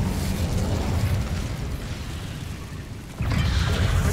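A roaring burst of magical fire from the Incendio spell in Hogwarts Legacy, one sustained loud whooshing blast that dips briefly and then surges again just as strongly.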